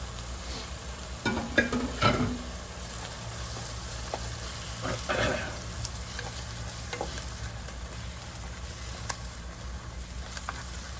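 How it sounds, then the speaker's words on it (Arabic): Green and colored bell peppers stirred together in a hot pan, a steady low sizzle with a few scraping stir strokes early on and again near the middle, fairly quiet and without speech. "هبتدي انزل بالفلفل الاخضر والفلفل الالوان واقلبهم مع بعض"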